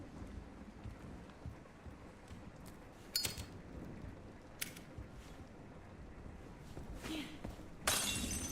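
Glass breaking in the video game Resident Evil Requiem: a few sharp, brief crashes stand out over a low murmuring ambience, with the brightest shatter arriving near the end.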